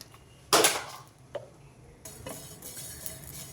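Fenugreek and coriander seeds being roasted in a pan for a Telugu fish curry, heard as a sharp scrape and clatter of a spoon against metal, a single faint knock, then soft stirring and light clinks, with no talk.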